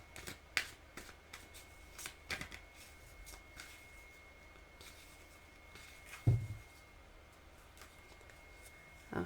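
Tarot cards are shuffled and handled at close range, with soft papery flicks and a few sharper slaps and taps spread across a quiet background, one louder thump near the middle.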